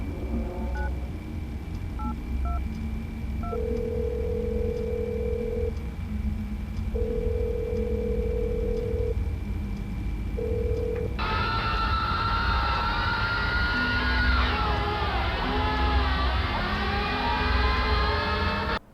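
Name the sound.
phone dialing 1996 and screams in video game Showman's: The Awakening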